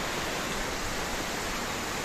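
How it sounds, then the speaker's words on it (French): Steady, broad rushing roar of the Cascade de Salins waterfall near Val d'Isère in the French Alps, even and unbroken throughout with no voices. "on dit au revoir à la cascade de Salins"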